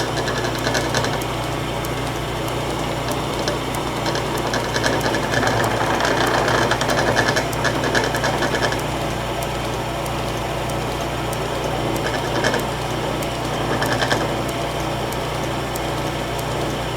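A 1917 Avey No.1 drill press runs with a steady mechanical drone and rhythmic knocking from motor bounce, a continuous close hum with slight rattling swells and no talking.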